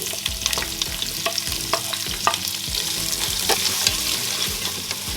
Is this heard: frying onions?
yes